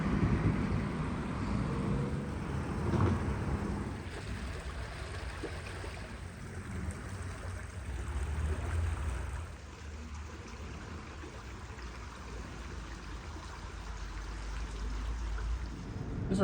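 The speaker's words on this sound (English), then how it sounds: "So here's a creek." A creek in Bradenton, Florida, flowing as a steady, continuous wash of rushing water that holds at an even level throughout with no voices.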